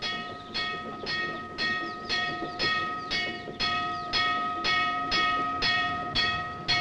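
A freight train rolls past with a steady, rhythmic clatter of wheels over rail joints, about twice a second, and a thin metallic squeal rides above the beat, fairly close.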